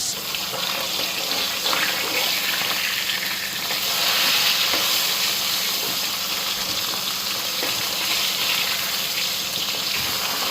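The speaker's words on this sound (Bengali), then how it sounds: "মাছটা এক পিঠ ভাজা হয়ে গেছে, এখন উল্টায় দিয়ে নিই।" Koi fish frying in hot oil in a pan, a dense continuous sizzle close and loud, with faint scrapes as the fish is flipped.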